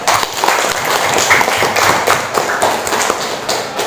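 Applause from a group at an Islamic religious education class, a lively patter of many hands clapping with a few sharper taps, steady and close throughout.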